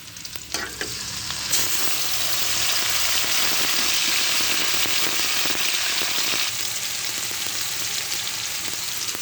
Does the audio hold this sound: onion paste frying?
yes